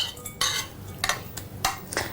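A utensil mixing ingredients including almonds in a bowl, with a few distinct clinks and scrapes against the bowl, irregular and close, no voices.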